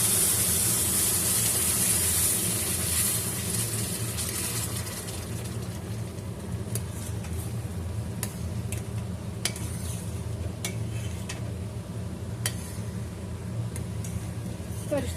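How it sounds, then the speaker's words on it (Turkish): Syrup goes into hot semolina halva over low heat, bringing a loud hissing rush at first that settles into a steady sizzle with scattered spoon scrapes and clinks as it is stirred. "Şimdi aynı şekilde kısık bir şekilde şerbetimizi ilave ediyoruz."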